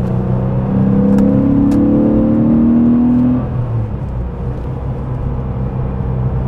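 A car passing by outside while riding inside a 1994 Porsche 993 Carrera, heard as a rising, sweeping whir that swells over the cabin's steady engine rumble for about three seconds, then fades back to the constant drone.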